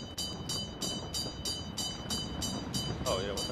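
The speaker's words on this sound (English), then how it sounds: "Here comes the train, I think." A train passes in the video game PUBG with a rhythmic clickety-clack of wheels over rail joints, steady and fairly faint, while players talk over it.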